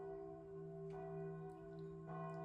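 A small bell rings clearly in a few separate strikes, each tone lingering and fading, calm and close with no other sounds.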